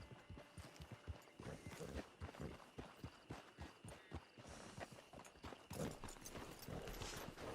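Horse hooves clip-clop in a steady, fairly close rhythm across the ground in the Red Dead Redemption 2 video game, continuing alone without voices throughout.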